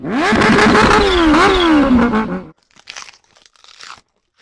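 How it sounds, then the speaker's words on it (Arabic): Kawasaki Ninja H2R motorcycle revving hard, a loud rising and falling engine scream with a turbo-like whine over about two and a half seconds, then cutting to near silence with faint clicks. "بس لحظة، الدراجة مو سوبر، شبيها تطلع صوت تيربو."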